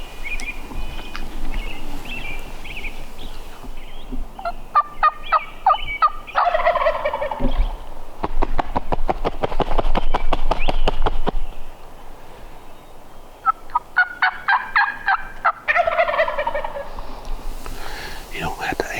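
Wild turkey gobbles ring out in rapid rattling bursts during a spring hunt on public land in the Black Hills, several calls at moderate distance in an open outdoor setting.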